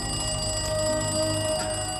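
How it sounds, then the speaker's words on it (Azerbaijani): A telephone rings with a steady, continuous electronic tone, alone and fairly loud throughout. "Bir gün gözlənilən zəng gəlir"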